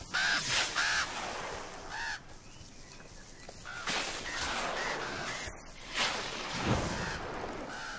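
Crows cawing in the video game Star Stable Online: several loud, harsh caws in short bursts, spaced across the span, with game sound effects between them and no talk.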